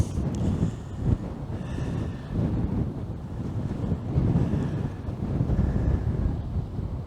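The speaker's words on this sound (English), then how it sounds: "Still enough breeze to keep the little flies and stuff at bay." Steady breeze gusting across a microphone at a seaside campsite, a low rumbling buffet that rises and falls continuously, with a faint wash that may be sea behind it and no voices.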